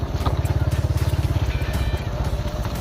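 A motorcycle rides along a road with a close, steady, rapid thumping engine pulse and a hissy wash of wind noise over it.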